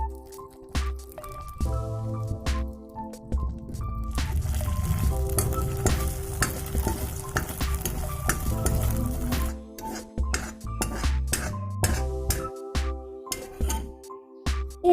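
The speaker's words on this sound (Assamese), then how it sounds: "আৰু চিং চেজৱান চাটনি 1 চামুচ দি এইখিনি ভালদৰে মিক্স কৰি দিম।" Potatoes are stirred in a pan with tomato sauce and schezwan chutney, bringing a spoon's clinks and scrapes against the pan over a soft sizzle, close and intermittent.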